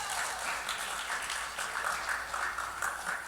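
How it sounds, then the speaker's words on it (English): Scattered applause from an audience at an evening church event, a soft, continuous patter of clapping heard from a distance and fairly faint, with no talking over it. "Give a round of applause for Miss Avalynn."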